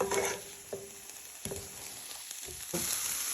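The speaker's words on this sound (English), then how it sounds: "You just want to start frying your onion and garlic" A quiet, steady sizzle of onion and garlic frying in a pan, with a few soft clicks and stirring scrapes mixed in.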